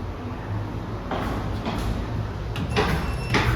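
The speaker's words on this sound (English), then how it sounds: "Doors opening." Sliding doors of a Kleemann Atlas Gigas machine-room-less traction lift in a building's basement level glide open with a soft mechanical whir and a few clunks over steady motor hum, close by and with no talking.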